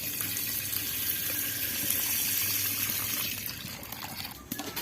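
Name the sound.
milk being poured into a heated uruli pot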